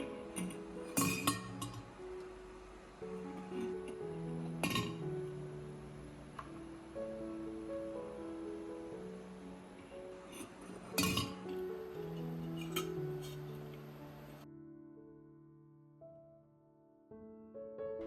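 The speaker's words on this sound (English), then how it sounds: "I place each egg into the jar, handling them gently to avoid cracking the shells." Repeated glassy clinks and taps as eggs are set into a thermos jar, with a few sharper knocks standing out against quiet background hum.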